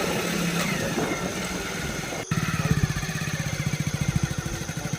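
A motorbike engine rumbles at idle, cuts briefly, then fires up into a steady pulsing putter as it pulls away, close and loud with no talk.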